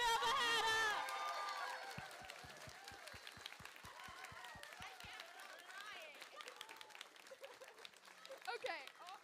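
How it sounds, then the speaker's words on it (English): Audience applause and cheering at a cartoon premiere, loud and dense at first, then settling into steady clapping with scattered whoops, while a voice speaks over it. "Clap for Hannah. Give it up for Hannah!"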